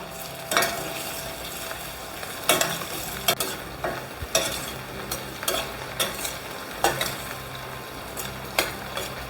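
A spoon stirring red chilli powder and salt into a pan while preparing a Gujarati farali thali, with periodic scraping knocks against metal over a low, steady sizzle.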